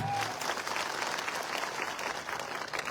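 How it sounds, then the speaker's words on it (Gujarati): An audience at a public gathering claps loudly for village heads, dense sustained applause from a crowd, close and continuous for the whole stretch. "એકવાર સરપંચો માટે જોરદાર તાળીઓ પાડી લો."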